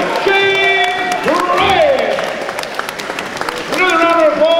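A crowd at an MMA event applauds and cheers the new middleweight champion, the clapping and whoops running beneath a loud announcer's voice over a PA throughout.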